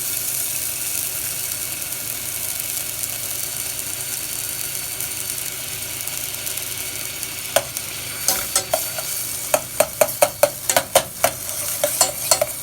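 Celery fries in melted butter in a pan with a steady, close sizzle, and later a run of sharp scraping and stirring clicks comes in over it.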